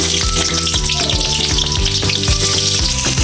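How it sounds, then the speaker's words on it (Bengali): Onions hitting hot mustard oil in a wok, a loud continuous sizzle and crackle with a rhythmic scraping stir over a background of music, no voices. "গরম ভাজা হয়ে গেছে, আমি তেলের উপর পেঁয়াজ দিয়ে দেবো।"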